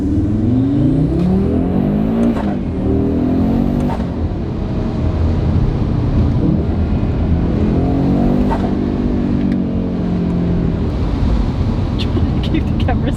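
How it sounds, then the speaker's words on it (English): Audi RS3 fitted with a new 5-inch air intake, its engine running loudly and steadily close by, with rising and falling revs and a couple of swelling pulls; talk mixes in over the engine note. "it's time to get the car out and show you guys how it's sounding with the new intake."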